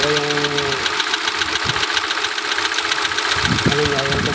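Hyundai Accent 2019 sedan engine idling in a workshop, a close, steady mechanical hum with rhythmic ticking, with a faint low-compression fault in one cylinder; a few brief tonal chimes start and end the clip.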